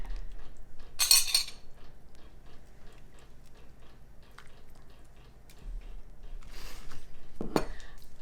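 A ladle scoops Italian sausage and kale soup into a bowl. There are a few close, sharp clinks of metal against crockery, with soft gentle sounds between them in a quiet kitchen.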